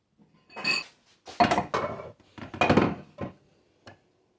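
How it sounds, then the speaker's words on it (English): A spoon scooping riced cauliflower into a bowl, with a few close, clattering scrapes and clinks of utensil against dish in short separate bursts, then a faint final tap. "I'm going to remove some of the fully riced cauliflower into a bowl"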